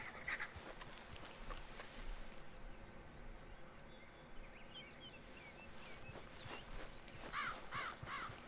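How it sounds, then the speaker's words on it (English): A crow caws in the Red Dead Redemption 2 video game, a few short harsh calls near the start and a clearer burst of repeated caws near the end over steady outdoor ambience. "I know that was a raven, but telltale crow"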